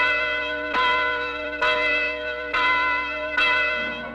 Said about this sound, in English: But it's time to ring the bells.